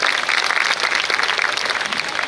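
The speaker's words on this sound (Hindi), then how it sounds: "मगर आप लोग से किसने कहा कि तालियां बजाना छोड़ दो?" Audience applause at a Gangaur festival event, dense continuous clapping from a crowd, fairly loud and steady throughout, with no speech over it.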